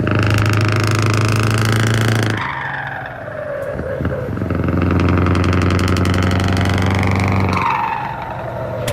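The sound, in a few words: V8 engine running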